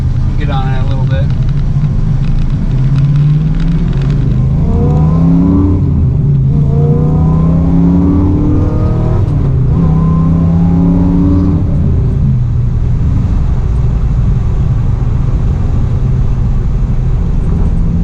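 A 1969 Camaro fitted with FiTech EFI revs and accelerates hard, its engine note climbing in rising sweeps heard from inside the car, loud and continuous, with someone speaking briefly over it.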